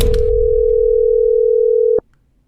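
A steady telephone tone on a phone call being recorded, held for about two seconds, then cut off abruptly into near silence.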